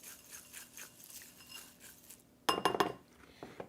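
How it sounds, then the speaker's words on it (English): Dry cookie ingredients, including hemp hearts, are stirred in a bowl: soft scraping strokes, then a burst of bright clinking from a utensil against the bowl's side, with no voices. "Let's mix it."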